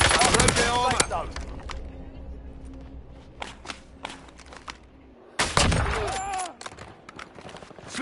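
Rapid bursts of automatic gunfire from a Call of Duty Warzone match, loud and clustered at the start and again around the middle, with scattered single shots and footsteps between.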